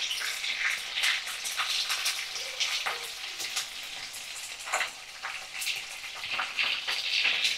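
Prawns fry in a pan, browning to a reddish colour, with a continuous crackling sizzle and occasional stirring scrapes, close and steady, with no talking.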